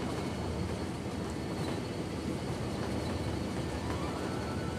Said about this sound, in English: that's one of the classic freight trains as well